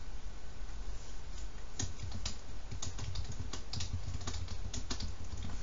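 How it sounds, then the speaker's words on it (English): Fingers type steadily on a computer keyboard during a coding lesson, with close, crisp key clicks landing in quick, uneven bursts for the whole stretch and no one talking. "And that's what you're going to type down here at the end."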